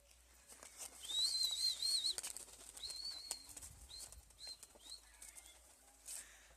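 Faint wings flutter and flap as Adana diving pigeons take off, with high chirps and calls scattered over a quiet outdoor background.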